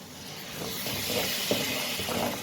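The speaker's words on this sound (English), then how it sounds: "We'll add some water." Water poured into a hot pan of dal spices (garam masala and coriander powder), giving a steady, fairly loud steamy hiss that swells and holds for a couple of seconds, with no voices.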